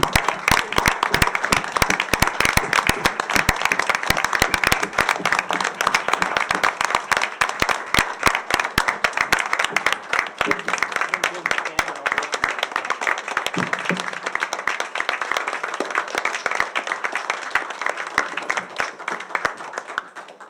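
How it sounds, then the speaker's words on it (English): Steady applause from an audience at a board of education meeting, honouring school staff, with dense clapping that holds for about twenty seconds and thins slightly toward the end. "Please applaud the accomplishments of our staff."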